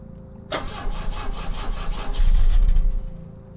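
A vehicle engine in The Drifter is cranked but fails to start, a sudden loud turnover followed by a rapid rhythmic grinding churn that builds in strength and then cuts off without catching.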